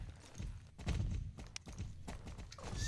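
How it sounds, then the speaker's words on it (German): Horse hooves clop steadily as the horse is ridden in Star Stable, a rhythmic sequence of close, moderately loud hoofbeats with no talk. "Wir reiten einfach so los."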